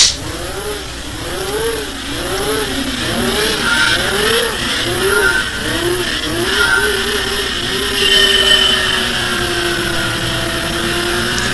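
A car engine in Gran Turismo 2 revving up hard and repeatedly, its pitch climbing and dropping through several gear changes before settling into a steady high drone, loud and close.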